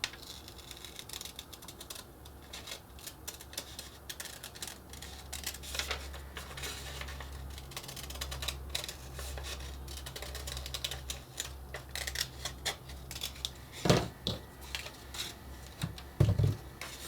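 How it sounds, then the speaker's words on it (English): Scissors snip out a traced part for a model steampunk locomotive's back wheel base, a quiet, close series of irregular clicks and cuts with a few sharper snaps near the end. "I'm going to cut that out and see how it fits."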